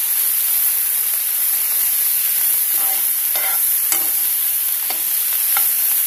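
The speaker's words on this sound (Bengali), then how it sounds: "দিয়ে দেবো এটাকে একটু নাড়াচাড়া করে নেব" Broccoli stirred in white sauce in a pan with black pepper, a steady close sizzling hiss with a few soft scraping strokes of the spoon, no talking.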